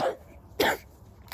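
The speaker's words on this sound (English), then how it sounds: "I think it's just a chronic cough" A person with a cold and congestion coughs a few times, close and raspy: one short cough, a louder harsher cough, then a faint brief one.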